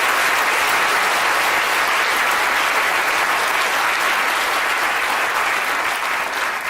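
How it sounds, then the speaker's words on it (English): An audience at a Royal Institution Christmas chemistry lecture breaks into loud, sustained applause, dense clapping that holds steady throughout. "A round of applause for Tim for trying our water."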